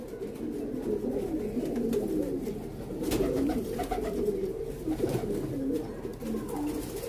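Pigeons from a loft coo steadily in low, overlapping murmurs across the whole stretch, a dense flock sound close by with a brief louder rustle midway.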